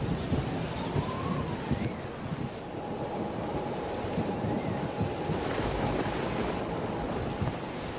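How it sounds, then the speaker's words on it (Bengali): Heavy rain and gusting wind roar steadily through a thunderstorm over open fields, a dense continuous wash of noise with low rumbling underneath and faint tonal sweeps of a music score layered over it. "তুমুল বেগে ঝড় আর সাথে খুব বৃষ্টি"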